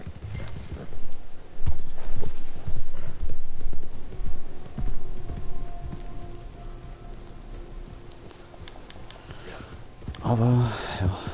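Hooves clop in an uneven, galloping rhythm amid game sounds in Red Dead Redemption 2, with people talking over them; the footfalls rise and fade, returning louder near the end.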